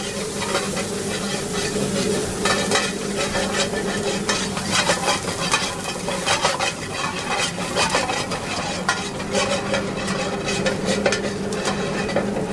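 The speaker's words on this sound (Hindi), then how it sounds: "ये कांदा डाल रहे हैं, चॉप। हाँ, चॉप्ड ऑनियन। थोड़ी देर फ्राई करेंगे" Chopped onion frying in a pan for a restaurant-style murg musallam, with continuous sizzling, repeated stirring scrapes and occasional clinks of utensil against pan, close and steady throughout.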